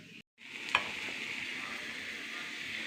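Onion, garlic and curry leaves fry in a pan with a steady, soft sizzle, broken at the start by a short gap and a single light scrape of a spoon stirring through them.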